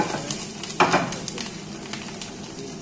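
Sliced mushrooms with chopped parsley fry in a pan, giving a steady close sizzle with a brief louder hiss as they are stirred.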